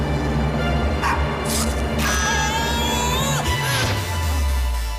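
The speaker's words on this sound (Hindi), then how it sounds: "देखो बैकग्राउंड में डॉग भौंक रहा है" A dog barks and yips in the background amid a noisy scene, several short calls around the middle over a steady low hum, with faint crowd-like voices.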